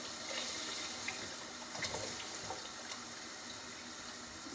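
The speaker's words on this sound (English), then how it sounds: "I'm gonna add a little bit more water" Tap water pours steadily into a soup pot while broccoli cheddar soup is being made, a continuous close hiss and splash that keeps the same level from start to finish with no speech.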